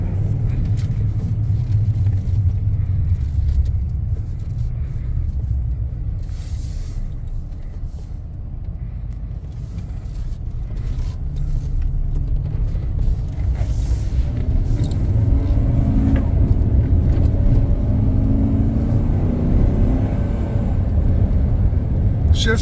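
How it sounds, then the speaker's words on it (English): A 2013 Chevrolet 2500HD 4x4 three-quarter-ton pickup runs with a steady low engine rumble while driving, growing slightly louder in the second half, with someone talking over it. "Motor sounds great."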